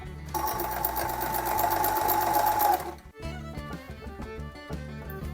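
A domestic sewing machine stitching a zigzag seam during mending, running in a steady fast mechanical chatter for about three seconds, then stopping with a few clicks and faint handling noise.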